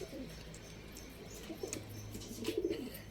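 Soft, low cooing from birds in the background, a few faint murmuring calls over a steady low hum, with light chirps mixed in.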